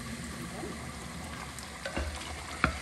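Bhature, Indian fried bread, fry in hot oil with a steady low sizzle and faint bubbling, broken by a couple of soft clinks near the end.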